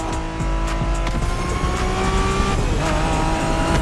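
A car in the racing game The Crew Motorfest revs hard through a steady engine roar with brief tire squeals, loud and close, with no voices over it.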